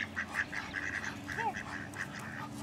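A flock of ducks quacks in a steady string of calls while being fed bread outdoors, close and clear over a low background murmur.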